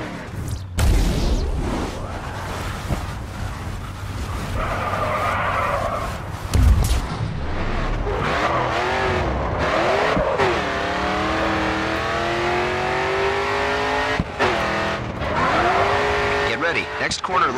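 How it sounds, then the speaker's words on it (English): A car drifts through a corner in the racing game GRID 2, its engine droning loudly and steadily while the tires squeal and slide. A voice talks over the continuous engine and tire noise. "Get some speed up, tap the brake, and steer hard into the next turn. Continue to turn and the back end will begin to slide out."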